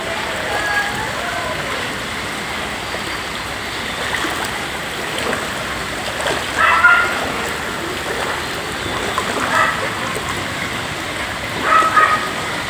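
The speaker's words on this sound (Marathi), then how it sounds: "वरून सगळं पाणी येत आहे." Sewage water from an overflowing drain gushing into a house in Kodoli, a steady broadband rushing flow with a few louder surges, close and continuous with no speech.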